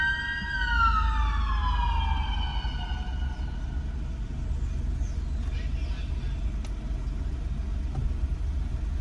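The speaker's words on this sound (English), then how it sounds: "I heard like the loud siren." A loud police siren wails and sweeps down in pitch, then fades into steady low city traffic rumble in Baltimore with faint voices.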